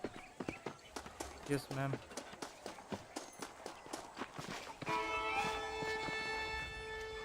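Steady clip-clop of horse hooves in the video game Red Dead Redemption on PC, a rhythmic walking gait close by, with a short spoken reply over it and then a sustained tonal game sound taking over.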